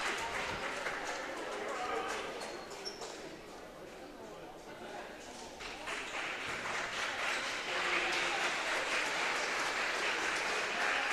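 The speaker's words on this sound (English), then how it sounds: "The senior gets a ovation from the crowd" Crowd applause and cheering fill a high-school gym during a varsity girls' basketball game, a steady broad roar that swells louder toward the end, with a commentator talking over it.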